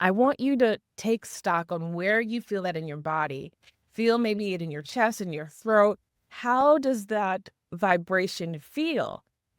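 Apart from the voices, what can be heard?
No distinct noise like a dog, phone or traffic.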